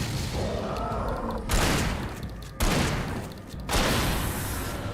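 Three heavy shotgun blasts boom in the Alan Wake video game, spaced about a second apart, each a loud, broad crack with a rumbling tail over dense ambient game noise.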